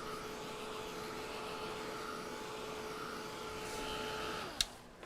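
A dryer blows steadily to dry paint on a teacup, a constant close whirring hum that runs for several seconds and then cuts off with a click.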